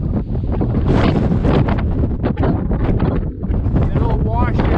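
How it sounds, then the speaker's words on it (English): Strong wind roars and buffets the microphone continuously in the Superstition Wilderness in January, a loud, steady rushing gust with no clear talk. "The wind is still blowing like crazy."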